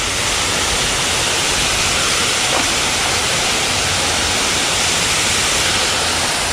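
Waterfall on a small creek, its steady broadband rush of falling water filling the scene loudly and evenly from start to finish, with no voices.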